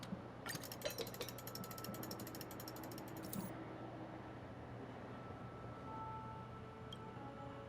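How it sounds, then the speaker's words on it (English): A fast mechanical ratcheting whir, like clockwork gears spinning, rattles for about three seconds over a low steady hum, then stops, leaving only the hum. "Well, here comes the clockwork."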